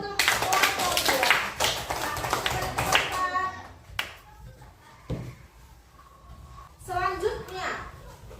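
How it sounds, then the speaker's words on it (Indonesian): A classroom of children claps for group 2 in a short burst of close, uneven claps mixed with lively kids' chatter, then the noise fades and another short round of claps and talk follows. "kasih tepuk tangan dulu untuk kelompok 2."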